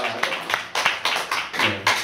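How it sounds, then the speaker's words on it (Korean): A short burst of rhythmic hand clapping during a church sermon, several quick claps in a row, with a voice speaking over it. "우리 사모니 위해서 박수 하면서 할렐루야"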